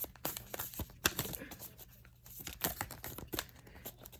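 Tarot cards are shuffled close by in quick irregular bursts of papery riffling, slapping and crinkling, with brief pauses between the passes.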